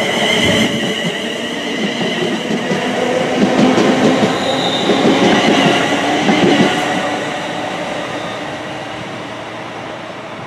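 Virgin Pendolino train at a station platform, a loud rumbling roll of carriages with faint wheel squeal and clatter that swells and then eases off as the train passes close by.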